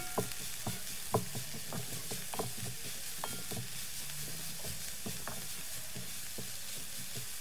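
Vegetables with grated courgette cooking in a pan for lasagna, a constant close sizzle under repeated knocks and scrapes of a utensil stirring, busiest at first and then easing, no speech.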